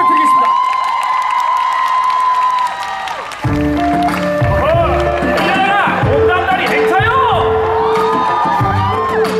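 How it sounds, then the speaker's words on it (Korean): Crowd applause, whoops and cheering break out at a mini-concert in Marronnier park in Seoul as performers take the stage, loud and close. Stage music with a sung melody rises over the cheering in the second half. "박수 부탁드리겠습니다"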